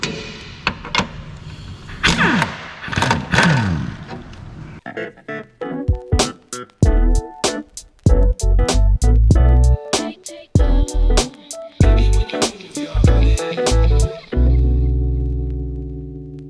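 An impact gun rattles running board bolts off a third-generation Toyota 4Runner, firing in a string of sharp, rapid hammering bursts close up, with a louder steady whir at the end.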